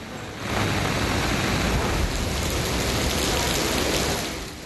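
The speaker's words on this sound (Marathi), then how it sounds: "रायगडमध्ये मुसळधार पाऊस सुरू आहे" Heavy monsoon rain pours down in Raigad as a dense, steady hiss that swells in quickly and holds at an even level throughout, with no voices.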